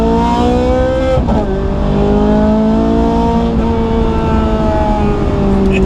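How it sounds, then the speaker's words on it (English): Ferrari 430 Scuderia V8 engine running loud and close throughout, with rising and falling rev pitch and two brief gear-change dips along the way, no voices. "So let's try and hear the car."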